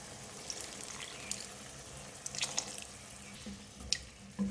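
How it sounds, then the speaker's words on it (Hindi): Water poured into potato and pea curry in a cooking pot, a soft continuous pour with light splashing and drips, fairly quiet and close, no speech. "अब इसमें पानी डालूंगी।"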